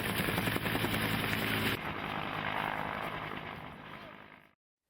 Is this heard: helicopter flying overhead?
yes